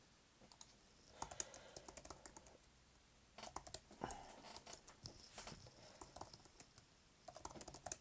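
Rapid bursts of typing on a computer keyboard during play of the text game LegendMUD, close and fairly quiet, with irregular clusters of clicks separated by short pauses.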